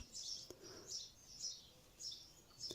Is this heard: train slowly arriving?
no